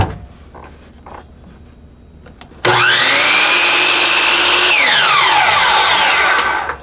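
A miter saw cuts a 31.6-degree angle in scrap wood: after a few seconds of quiet handling noise, the motor whines up sharply and stays loud and steady through the cut, then tapers as the blade winds down.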